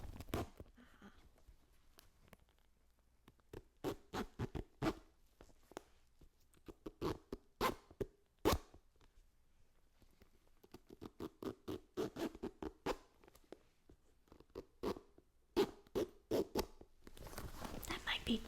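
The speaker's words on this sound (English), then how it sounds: "We can fiddle with the zipper." Soft, close scratchy rustles and short clicking pulls on a clothing zipper come in irregular bursts, like a zipper being fiddled with slowly, with quiet whispered talk.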